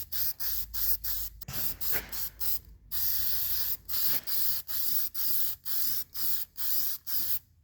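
Rust reformer hisses from an aerosol can in a dozen short, evenly spaced bursts as it is sprayed thickly into holes in the body of a 1980 Plymouth, loud and close with brief gaps between passes.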